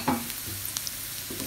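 Dried shrimp hitting hot oil with softened onion in a pan for Pad Thai, a close continuous sizzle with a quick stirring rattle at the start and faint ticks, no voices.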